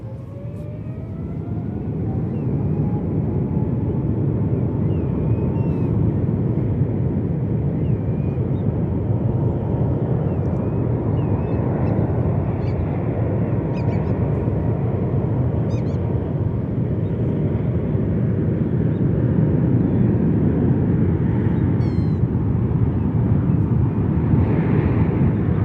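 A Korean Air airliner departs San Francisco International Airport bound for Seoul, its jet roar building over the first seconds and then holding as a loud, steady rumble with a faint rising whine near the start.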